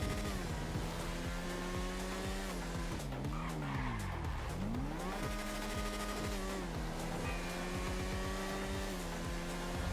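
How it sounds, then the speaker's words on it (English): Revving vehicle engine in GTA V, a whiny, strained drone that climbs and dips in pitch, with skidding tire squeal, steady and loud throughout with no talking. "I know that it makes the engine sound like it's trying harder. It sounds kind of whiny though."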